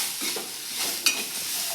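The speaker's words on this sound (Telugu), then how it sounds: "ఉల్లిగడ్డలు 1 స్పూన్ ఆయిల్ వేసుకొని గోల్డెన్ కలర్ వచ్చిన దాకా వేయించుకోండి." Sliced onions fry in a spoonful of oil in a pan, a brief close hiss with a quick stir and one sharp utensil tap partway through, no voices.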